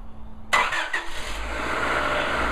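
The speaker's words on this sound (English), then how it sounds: "now that the vehicle's been filled with coolant, I can start it up" A car engine cranks and fires up after its cooling system has been refilled with coolant, catching quickly and settling into a steady, close running hum.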